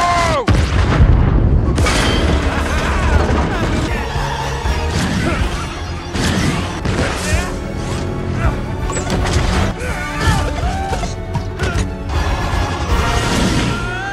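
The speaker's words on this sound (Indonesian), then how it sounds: "membunuh Mario, tapi dia menghindari serangan itu dan meledakkan kendaraan Jenderal." In the Super Mario Bros movie, the general's vehicle blows up in a loud, crashing explosion, heavy booms and smashing impacts mixed with dramatic score and effects that run throughout.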